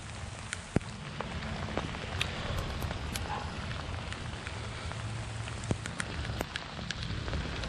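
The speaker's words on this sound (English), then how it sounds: "it's been raining all day" Steady April rain falling on a spring garden with blooming cherry bushes, a dense even hiss of drops hitting leaves and ground, with occasional sharper nearby drips and no voices.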